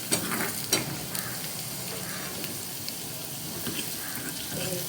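Garlic frying in a pan over raised heat, a steady soft sizzle with faint stirring scrapes and light clinks, close and moderately quiet, with no talking.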